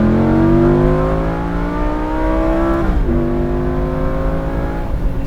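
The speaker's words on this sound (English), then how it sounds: "So I'll do a downshift here to bring up the RPMs." A Lamborghini Gallardo Spyder engine in sport mode, loud and close, holding a strong harmonic drone that climbs, then blips and jumps in pitch on a downshift before settling into a steady run.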